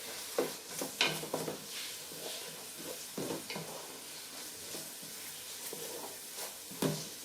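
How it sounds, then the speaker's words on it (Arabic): Meat and onion sizzle steadily in a pot while a spoon stirs them, with repeated scraping and clinking strokes over the constant frying hiss, close and moderately loud, with no voices. "غادي نحرك شويه نخليه يتحرك هادشي مزيان، ندمجوا العناصر كلهم"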